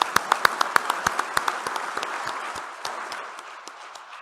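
An audience applauds at a political address in Armenia, with sharp individual claps up front over a dense crowd clatter that slowly thins out.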